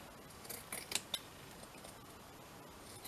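Scissors snip off loose dangling bits from a handmade journal, several quick, sharp cuts close up in a quiet room, clustered together and then fading to silence.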